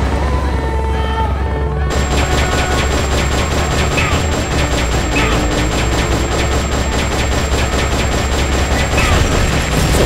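Loud, dense bursts of rapid gunfire and explosions in the video game Metal Gear Solid Peace Walker over a constant rumble, with a high electronic tone running through most of it.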